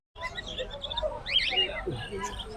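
Many small birds, including cockatiels, chirp and tweet at once at the Hasnabad village bird market, a busy overlapping chatter with a faint voice underneath.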